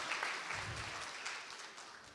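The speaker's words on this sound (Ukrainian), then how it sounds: "Оплески Миколі." Audience at a talk for entrepreneurs bursts into applause, a dense steady patter of many hands clapping close by, fading slightly toward the end.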